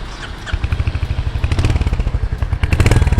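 An all-black Royal Enfield Hunter 350 Retro motorcycle idles close by, its single-cylinder exhaust thumping in a steady, rapid pulse that thickens briefly with a light throttle blip, with no voices.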